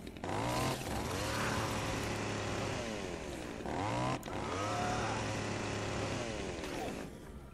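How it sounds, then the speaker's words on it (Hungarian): A chainsaw revs in the video game Dead Rising 2, a loud buzzing engine that rises and falls in pitch in repeated surges, with game noise around it. "Add vissza a láncfűrészemet."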